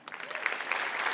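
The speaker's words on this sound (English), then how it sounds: "Thank you for clapping." Audience clapping at a live medium's show in Melbourne, a steady wash of many hands applauding close by for a brief moment, without speech.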